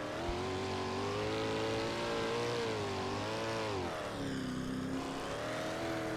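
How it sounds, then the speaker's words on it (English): A 410 sprint car engine heard on board at Kokomo Speedway, loud and close, its pitch rising and falling as the throttle is worked through the turns, dipping lower near the end. "You just listen to the throttle control, how much he's off the throttle."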